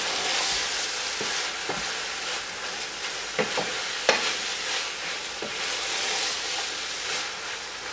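Keema (minced meat) and okra stirred together in a hot pan: a steady sizzling hiss runs throughout, broken by repeated scraping clicks of the spoon against the pan at an irregular pace, close and fairly quiet, with no talking.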